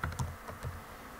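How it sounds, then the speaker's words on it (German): Brief keyboard typing as a folder name is entered on a computer, a few quick close keystrokes clustered in the first part, then quiet. "Preti, bitte nicht vertippen"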